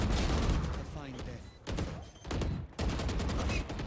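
Rapid gunfire bursts from a Valorant esports match between student teams, loud and broken by brief pauses, with a caster's voice running over the shots.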